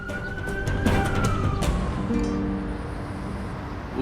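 Police and ambulance sirens approach, one wailing tone sweeping slowly up and down over a dense, steady background of traffic-like rumble, moderately loud and continuous throughout.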